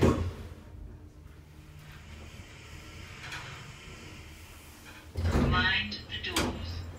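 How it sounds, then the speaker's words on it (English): Schindler S Series lift doors slide shut with a low rumbling glide and a firm thud at the end, inside a shopping centre lift, following a recorded announcement voice. "Mind the doors. Doors closing."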